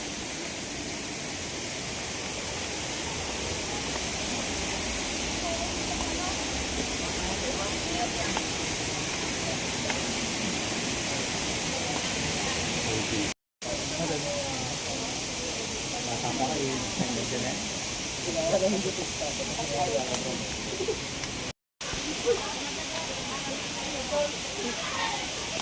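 Hulugan Falls roars as a steady, dense wash of falling water over about twenty-five seconds, with a voice speaking briefly over the rushing noise.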